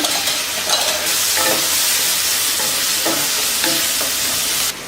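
Onions frying in a pan for Karnataka-style tomato gojju, a loud steady sizzle with intermittent stirring scrapes, heard alone with no talk.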